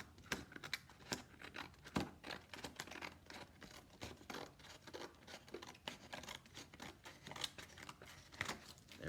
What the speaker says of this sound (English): our next step is to grab our scissors and to just cut that